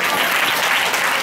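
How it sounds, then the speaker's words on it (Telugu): Dense, steady applause from an audience at a Telugu Christian sermon, loud and close, with no pause in the clapping. "చప్పట్లు కొట్టరే"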